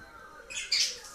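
A pet parrot gives one brief, bright chirp that rises into a sharper squawk, close by and alone in a quiet room.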